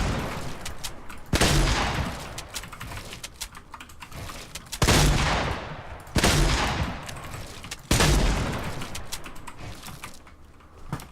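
Shotgun gunfire in a video game, four loud booming blasts spaced a few seconds apart, each trailing off, with faint clicks between.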